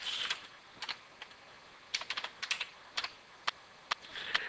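Fingers tap keys on a computer keyboard while a password is typed in during a SQL Server installation, giving irregular, crisp clicks in short bursts and single strokes, close and fairly quiet.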